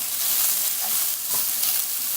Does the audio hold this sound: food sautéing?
yes